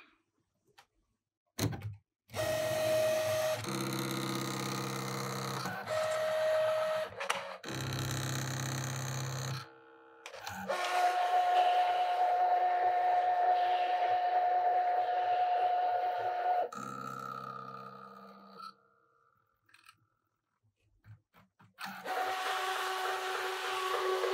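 ScanNCut DX cutting machine cutting vinyl, with motor whirs and tonal whines in bursts separated by short pauses, a long steady whine in the middle, and clicks and shifts as the carriage moves, close and alone.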